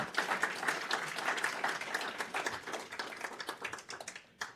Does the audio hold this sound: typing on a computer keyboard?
no